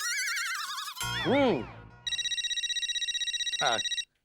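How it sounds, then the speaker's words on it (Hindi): A phone rings with a rapid, pulsing electronic trill that repeats several times, after a few playful boing-like sound effects. "माधवी का फोन"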